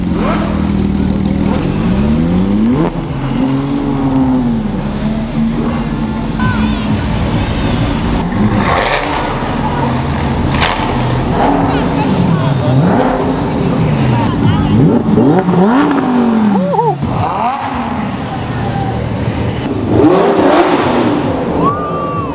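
A Ferrari 812 engine revs repeatedly, rising and falling in pitch, loud and close, with people talking and exclaiming over it.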